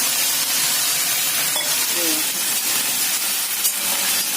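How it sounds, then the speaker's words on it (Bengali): Water poured onto vegetables cooking in a pan sets off a steady, close hiss of steam and sizzle that holds level throughout, with no talking. "এই দেখো সবজিটাতে একটু জল দিয়ে দিলাম"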